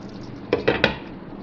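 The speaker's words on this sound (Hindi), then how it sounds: "मैं इसको डिश आउट करती हूँ।" A ladle knocks three quick times against a pot while cooked chickpea curry, halwa puri style chole, is dished out. The clinks are close and clear over a quiet background.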